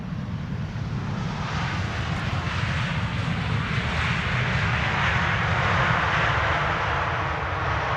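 An Embraer E195-E2 jet arriving at Amsterdam Schiphol Airport after a flight from Porto, its engines producing a loud, steady roar that holds throughout with no voices.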